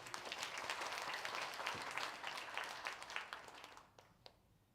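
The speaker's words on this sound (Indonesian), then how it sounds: "Kasih tepuk tangan bagi dia." Quiet applause from a church congregation during a sermon, a dense patter of many hands that thins out and fades near the end.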